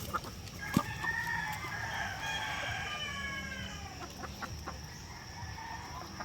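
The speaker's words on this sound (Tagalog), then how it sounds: "Kumakain agad itong mga manok natin." Chickens cluck and murmur nearby, with a rooster crowing partway through over faint background noise.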